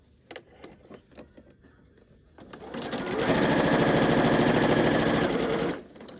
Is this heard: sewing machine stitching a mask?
yes